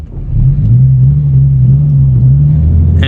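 A 2008 Ford Mustang with a V6 engine drives and accelerates, its loud, steady engine drone rising and holding close up for a few seconds with no talk.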